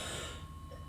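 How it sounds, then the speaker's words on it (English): Throat clearing from one nearby person, a short rough burst that tapers away in under a second in a quiet room, with a steady faint tone underneath. "I've got to clear my throat a little bit."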